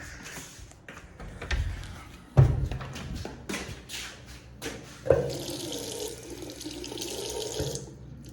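Water runs from a tap onto a cloth being wetted, an intermittent gush and splash with two sharp thuds, fairly quiet and close, with the flow steadying toward the end.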